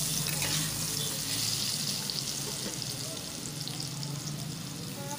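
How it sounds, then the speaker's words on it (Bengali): Elephant foot yam chunks frying in white oil in a wok, giving a steady, close, loud sizzle and crackle that runs unbroken throughout with no voices. "সাদা তেল দিয়ে আমি এখন ওলগুলোকে ভেজে নিচ্ছি"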